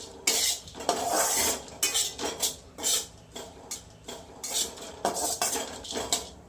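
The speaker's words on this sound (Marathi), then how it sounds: "ह्याचा कलर नाही चेंज करायचा आपल्याला नुसतं रोस्ट करून घ्यायचं थोडंसं" A metal spoon scrapes and clatters in a pan as jaggery and coconut modak filling is stirred and dry-roasted, producing steady, loud, close strokes and clinks with brief pauses and no voices.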